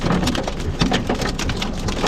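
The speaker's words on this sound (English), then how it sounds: "This hail isn't even that big, so I think we're fine right now." Hail falls outside during a storm in Columbus, Nebraska, a dense, loud, continuous patter of hailstones striking surfaces, with sharper individual impacts scattered through it.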